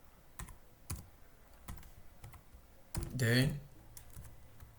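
Computer keyboard keystrokes while coding a Python password validation script, a handful of separate taps spread out with a short burst of speech in the middle.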